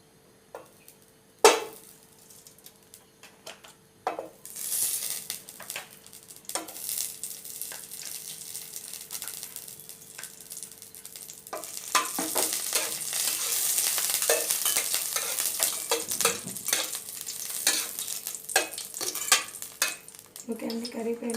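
Ghee melts and sizzles in a pan on a gas stove, a soft frying hiss that builds louder midway, with occasional clinks of a spoon against the pan.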